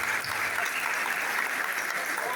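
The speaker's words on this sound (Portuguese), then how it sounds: "Aplauda Jesus bem forte." A church congregation at a couples' gathering applauding loudly, a dense, even wash of clapping throughout, with voices mixed into it.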